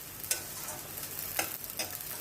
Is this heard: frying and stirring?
yes